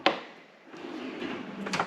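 A kitchen knife drawer slides open or shut close by: a short knock at the start, then a rolling, rumbling glide ending in a light clunk.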